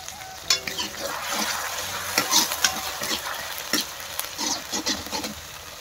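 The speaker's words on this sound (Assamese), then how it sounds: "হালধিখিনি কেঁচা ভাৱটো যোৱালৈকে অকণমান ভাজিব লাগিব" Raw turmeric paste fries in oil with browned onions for a chicken dish, giving a close, lively sizzle broken by repeated scraping strokes of a spoon stirring the pan, with no talking.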